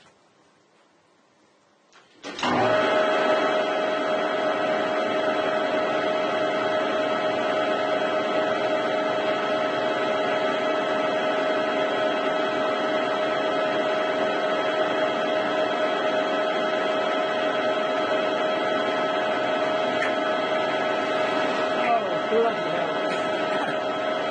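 Harrison M300 metal lathe running while turning between centres and taking a half-millimetre cut, a steady loud machine whine with strong tonal hum that starts abruptly and continues throughout.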